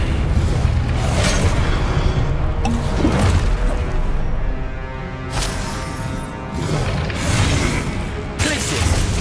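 A Confringo blasting spell exploding in the Hogwarts Legacy video game, repeated booming blasts amid continuous loud combat noise, some bursts standing out more sharply.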